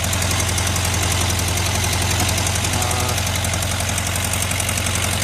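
Close up, the air-cooled motor of a 1973 Volkswagen Karmann Ghia runs at a slightly low idle, a constant droning rumble with rapid mechanical chatter layered on top and no speech.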